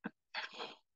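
A single sneeze close to the microphone, with a brief intake followed by a breathy burst, heard alone during a church prayer gathering.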